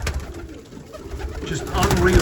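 Pigeons coo in low, soft repeated calls close by, steady throughout and swelling louder toward the end.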